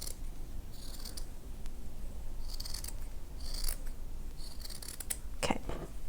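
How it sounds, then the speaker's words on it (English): Scissors snip through soft felt while cutting a spiral around a craft flower, a run of short crisp cuts in brief bursts with pauses between, close and clear with no talking. "Next, you're going to cut a spiral all the way around, just like this."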